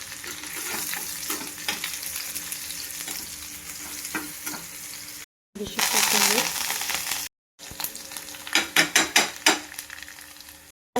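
Ground garlic paste tossed into onions frying in oil for a village-style eggplant bharit, sizzling loudly with repeated rhythmic scraping strokes of a spoon in the pan, interrupted by short silent gaps.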